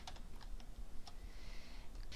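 Soft, quick keystrokes on a computer keyboard, a few faint clicks in an irregular rhythm over low background hiss.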